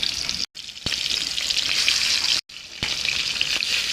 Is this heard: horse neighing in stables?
no